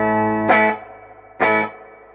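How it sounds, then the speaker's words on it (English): A clean guitar played through a Fender Deluxe Reverb Tone Master amp with its spring reverb set around 2. Two loud strummed chords ring out, each trailing into a smooth reverb tail that decays between hits. "The reverb itself is pretty pretty impressive."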